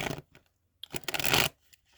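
Tarot cards being shuffled by hand, with a couple of quick riffled bursts, the second longer and brighter, separated by near silence.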